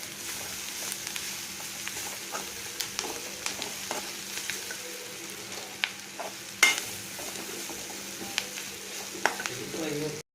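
Soya chunks with turmeric powder fry in a pan over a low flame, giving a steady close sizzle marked by scattered ticks and scrapes of stirring, with no one speaking.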